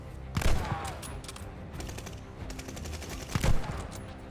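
Bursts of automatic gunfire from Call of Duty: Vanguard, two louder volleys near the start and end with scattered shots between, fairly close and sharp, with no talking.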